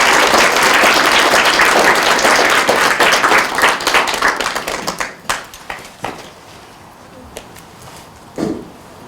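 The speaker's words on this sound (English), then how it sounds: "I think that's a round of applause for both of these beautiful." Guests at a civil wedding ceremony applaud the newlyweds loudly, a dense burst of close clapping that thins out after about five seconds into a few scattered claps and fades.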